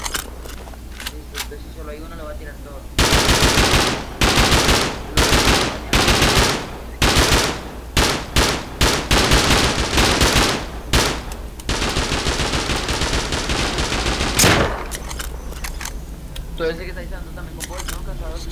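Gunfire in the video game Rust: rapid loud bursts of automatic fire in repeated volleys, then a long sustained stretch of shots. Players talk faintly underneath.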